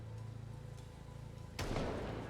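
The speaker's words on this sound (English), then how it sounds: "It's just a rogue gunshot. Like, right next to my ear." A single loud, sudden gunshot from a video game bursts out near the end over a steady low background hum, sounding close and abrupt.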